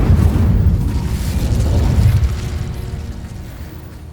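An Incendio fire spell cast in a magic video game bursts out as a loud, deep whoosh and rumble that slowly fades over several seconds.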